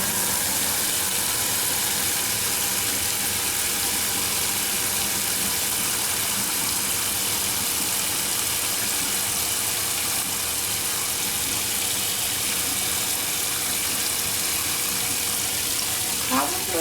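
Hot water running steadily from a tap into a container being filled about halfway, a continuous broad rushing hiss that holds level throughout with a small clatter near the end.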